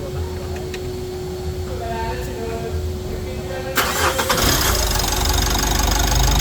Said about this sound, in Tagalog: napaandar na nga po namin yung ginawang EGR at turbo cleaning